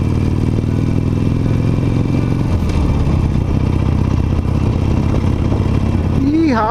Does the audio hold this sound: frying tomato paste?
no